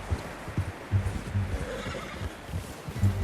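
A horse in Red Dead Redemption 2 neighs and whinnies with soft clip-clop of hooves, close and fairly loud, several snorting bursts spread across a few seconds with no talk.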